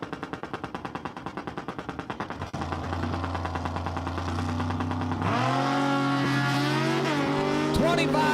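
A 2009 Suzuki Hayabusa motorcycle makes a drag race run. A rapid, pulsing engine burble builds into a loud, sustained high-revving roar, then the pitch climbs sharply as it accelerates close by.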